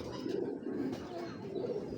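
A foreign-bred pigeon coos close by, with low rolling coos repeating steadily over a faint background hum and no talking.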